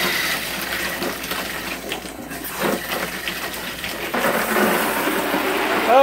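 Water sprays from a broken camper shower fitting in a steady, close hissing rush that grows louder toward the end.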